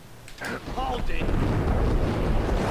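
Gunfire in Max Payne, a few sharp shots early followed by a heavy, rumbling, sustained blast of noise, loud and close.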